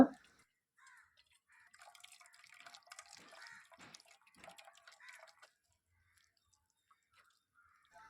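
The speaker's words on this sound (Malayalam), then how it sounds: "ഒരു അരിപ്പയിലേക്ക് കുറേശ്ശെ ഒഴിച്ച് ജ്യൂസ് പ്രത്യേകം അരിച്ചെടുക്കുക" Warm grape juice is poured a little at a time through a sieve, making faint trickling and dripping sounds in short bursts over a quiet background, with no talking.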